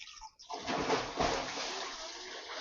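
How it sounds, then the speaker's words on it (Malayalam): Water poured from a cup onto jaggery for a sweet mango dish, a steady splashing gush that starts after a brief pause and runs on continuously, close and moderately loud. "അപ്പം ആദ്യം നമ്മൾ ഒരു കപ്പ് വെള്ളം ഒഴിച്ച് നോക്കാം"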